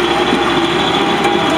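A 1994 Caterpillar CP-433B vibratory compactor's diesel engine runs steadily at idle, a close, continuous drone with no breaks or talk.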